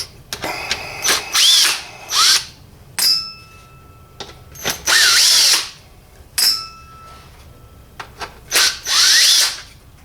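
Power driver backing out T25 Torx screws from a Jaguar X-Type grille on a bench, several short whirring bursts with pauses between, each rising and falling in pitch, close and clear.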